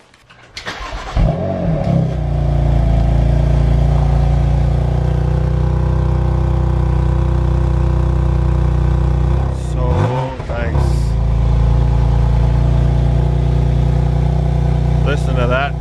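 A 2019 BMW M2 Competition starts and settles into a loud, deep idle, then revs sharply twice, roaring up and dropping back, heard up close.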